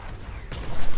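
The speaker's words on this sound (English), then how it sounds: "Fucking bitch ass shotgun, that's all you hear" A shotgun blast in an online shooter video game, a single sharp burst cutting in midway through a short stretch of noisy action.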